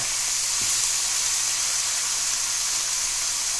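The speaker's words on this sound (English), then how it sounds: "we're going to put it in the middle, seasoned side down to get a little quick sear on it" A seasoned salmon fillet sears face down in a hot pan, giving a steady, loud, bright sizzle that holds evenly throughout with no talking.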